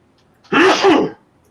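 One loud sneeze bursts out close by, breathy and abrupt, with a two-part catch before it stops. No one is speaking during it.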